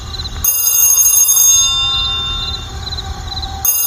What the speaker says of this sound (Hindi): तभी अचानक उसका मोबाइल फोन बजने लगता है।